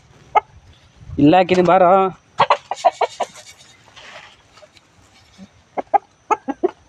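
Chickens brought into a farm enclosure give a loud, drawn-out cackling call lasting about a second, followed by people talking over faint background clucks.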